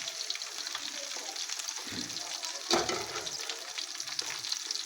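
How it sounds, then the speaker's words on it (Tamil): Oil poured into a hot pan for frying fish intestines gives a steady sizzling, bubbling hiss that carries through the whole stretch, with a couple of louder splashy surges midway. "எண்ணெய் கொஞ்சம் நம்மளுக்கு தேவையான அளவு நிறையா கூட ஊற்றிக்கலாம்"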